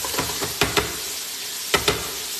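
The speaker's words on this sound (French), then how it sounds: "on fait revenir les lardons" Bacon lardons sizzling in a frying pan make a steady crackling hiss, broken by a few sharp knocks as the pan or spoon is moved, close up with no talking.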